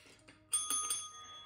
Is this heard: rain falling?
no